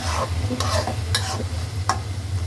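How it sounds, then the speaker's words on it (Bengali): Dried Bombay duck fish (loitta shutki) is stirred and fried in a pan, giving a steady oily sizzle under repeated scraping strokes of the spoon, close and fairly loud. "ভালো কইরা বাজা বাজা কইরা রান্না করুন"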